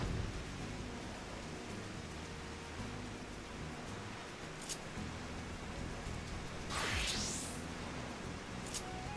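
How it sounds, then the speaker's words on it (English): Steady rain in the video game Final Fantasy XIV, a dense even hiss with a brief rising whoosh near the end, no voices. "It's very rainy today."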